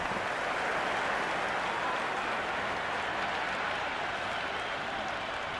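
Sustained applause and cheering from a stadium crowd in the Cricket 26 video game, a dense, even roar of clapping with no talk over it.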